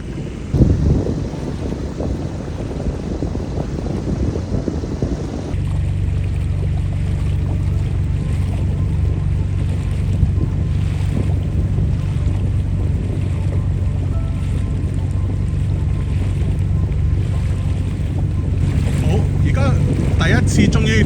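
Low, steady drone of a boat engine with wind buffeting the microphone, rumbling continuously throughout; a brief burst of louder noise at the start.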